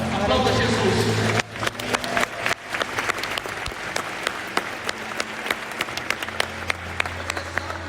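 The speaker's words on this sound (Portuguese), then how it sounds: "Aplauda Jesus." Applause from a church conference audience, loud at first, then dropping to scattered, sharp individual claps and stray handclaps, with a sustained musical tone underneath and some crowd noise.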